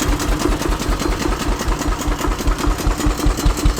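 A 1920 International Harvester kerosene engine runs fitted with a tractor muffler, giving a steady, rapid thumping beat with a low mechanical chug, fairly loud and close, with no talk over it.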